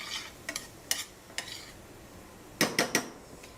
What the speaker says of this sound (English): once you add the spices in, go ahead and stir it up a little bit